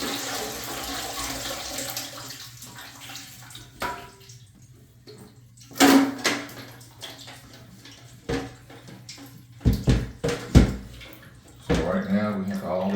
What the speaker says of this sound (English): So right now we have all the excess waters coming out.